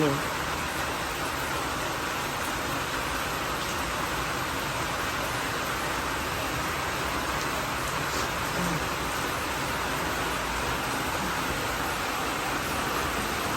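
Steady, dense rain pours down without a break, a constant hiss of falling water that stays even and fairly loud throughout.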